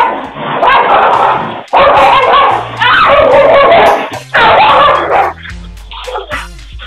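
A dog barking and yipping in loud, frantic bursts separated by short pauses, close and harsh, ending in softer whimpering yelps.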